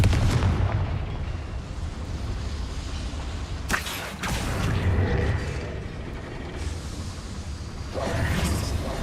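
A Confringo fire spell blasts in Hogwarts Legacy, a sharp explosive crack around the middle followed by a second surging burst near the end, over a steady rumbling game soundscape.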